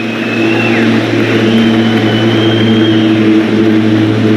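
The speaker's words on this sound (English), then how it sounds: "wait for that plane." An airplane passing overhead at an outdoor truck presentation, a loud sustained droning engine roar with a slowly shifting pitch that fills the whole stretch, with no talking.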